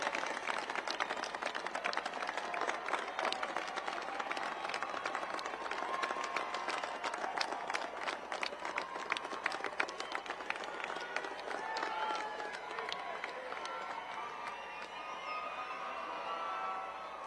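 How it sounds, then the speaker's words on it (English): Graduation audience applauds their families, a sustained wash of many hands clapping with scattered cheers, steady and fairly loud throughout. "Stand up and give them a round of applause."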